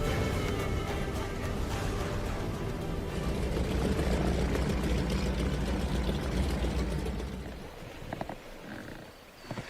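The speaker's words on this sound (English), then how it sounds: "This beaver hydroplane will transport the camera crew and all their equipment to a floating lodge in the heart of the Smith Estuary" A de Havilland Beaver floatplane flying over an estuary, its piston engine a steady droning roar that holds for several seconds and then fades away.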